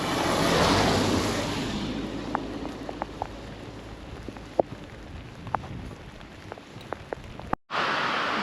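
Steady rain on a hiking trail in Sweden patters and hisses all around, with scattered sharper drips landing close by, before the sound cuts out abruptly near the end.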